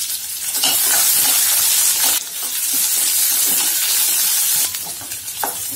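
Chopped onions frying in oil in a pan after mustard seeds and urad dal, loud continuous sizzle broken by a few stirring scrapes and brief dips, alone without talk.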